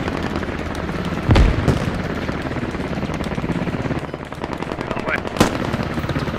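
Combat gunfire in the military shooter game Squad, with a sharp nearby shot or blast and another later over a dense, continuous backdrop of distant rattling fire.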